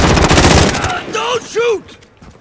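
Loud bursts of rapid automatic gunfire from the video game Call of Duty: Warzone fill the first second, followed by a short voice and scattered quieter effects.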